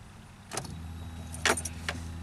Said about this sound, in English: now I'm going to turn the key over